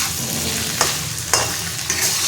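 Pointed gourd and teasel gourd sizzle steadily in a frying pan, broken by three sharp scraping stirs of a spatula at regular intervals.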